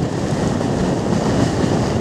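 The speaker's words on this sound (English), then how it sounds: "Extremely windy" Strong wind batters the hilltop of Ivinghoe Beacon, an Iron Age hill fort in the Chiltern Hills, as a loud, continuous roaring rumble across the whole moment, with no talk.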